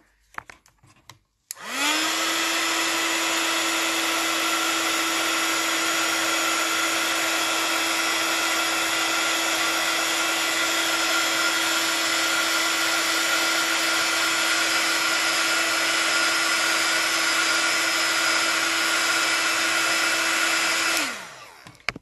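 A hair dryer blows on wet watercolor paint of a children's illustration, a loud steady whir with a constant motor hum that starts abruptly, runs unbroken for about twenty seconds, then cuts off.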